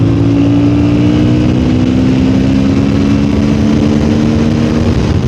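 A Honda CB750 Hornet motorcycle with a short-stroke engine revs hard and steadily toward red line. The loud, sustained engine note climbs continuously from start to finish, with no talk over it.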